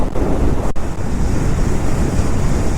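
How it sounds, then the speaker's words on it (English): Steady roaring wind buffets the microphone while riding a Triumph Trident 660 with a PowerBronze windscreen at highway speed in the 80s mph, a continuous broadband rush with a brief dip near the start. "you start noticing the wind a lot, up in the 80s miles per hour"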